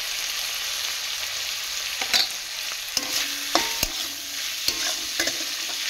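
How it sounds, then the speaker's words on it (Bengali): Pieces of teasel gourd fry in a pan with a soft, steady sizzle, broken by a few sharp scrapes and clicks as a spatula stirs them. "এখন আমি জলটা দিইনি, একটু ভাজা ভাজা হোক"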